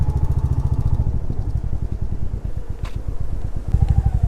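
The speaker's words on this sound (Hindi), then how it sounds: "अरे ये तो मैं थोड़ा सा ही घुमा रहा हूँ मैं एक्सीलेटर" A motorcycle engine revs close by with a loud, fast throbbing putter that surges and dips as the throttle is twisted, rising again sharply at the end.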